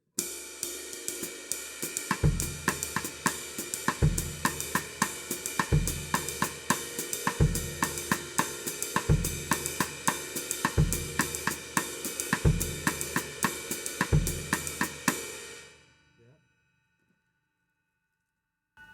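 A drum kit groove with an extra left-hand note plays steady cymbal strokes over recurring low kick thumps for about fifteen seconds, then rings out into near silence.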